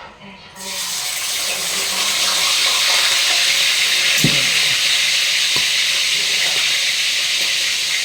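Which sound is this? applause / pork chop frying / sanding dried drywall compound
pork chop frying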